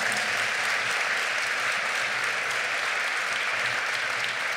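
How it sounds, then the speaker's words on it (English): Sustained, dense applause from an audience honoring students at a community excellence gathering, steady and loud throughout with no break. "Let's give all of those wonderful students another big round of applause."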